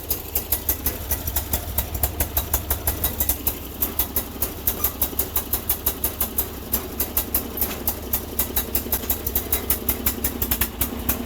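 A Sears Suburban loader's small engine runs rich, chugging in a fast, steady rhythm of exhaust pulses at a moderate, close distance.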